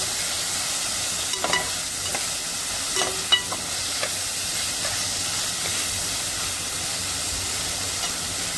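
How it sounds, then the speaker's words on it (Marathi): Tomatoes sautéing in hot oil for a Kolhapuri mutton mundi masala, a constant loud sizzle and hiss with a few scattered clinks and scrapes of stirring. "टोमॅटो सुद्धा व्यवस्थित परतून घेणार आहे."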